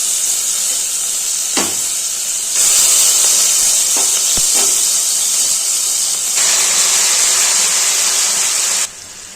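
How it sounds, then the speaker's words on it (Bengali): Marinated small fish fry in hot oil, making a loud, continuous hiss and sizzle that surges as the pieces go in, with a few sharp pops and clinks. "তেলটা গরম হয়ে গেলে আমি আস্তে আস্তে ম্যারিনেট করা মাছটা দিয়ে দেব"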